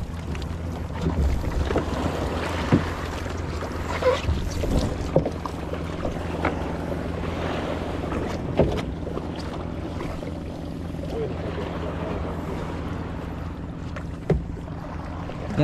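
A fishing boat moves steadily across open water, with a constant low engine drone, water wash and wind buffeting the microphone, plus occasional knocks and thumps close by.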